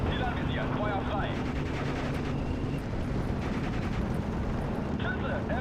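Bursts of gunfire and explosions from Steel Division 2, a World War II strategy game, crackling under ongoing battle noise and a loud rumbling background.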